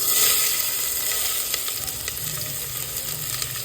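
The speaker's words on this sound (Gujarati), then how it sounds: "1 ટેબલસ્પૂન હિંગ, એમાં નાખીશું 1 ટૂંકું મરચું, થોડો લીમડો અને પછી નાખીશું બધા વેજીટેબલ." Vegetables, a short chili and curry leaves sizzle loudly in hot tempering with asafoetida in a pot for mixed vegetable khichdi, a steady close frying hiss with small crackles and stirring throughout.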